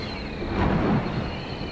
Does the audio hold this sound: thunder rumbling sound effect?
yes